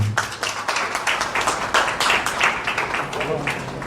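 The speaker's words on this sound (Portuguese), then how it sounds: "Salva de palmas para a Edna." An audience at a women's cultural extension course opening gives sustained applause, dense steady hand clapping filling the room with some voices mixed in underneath.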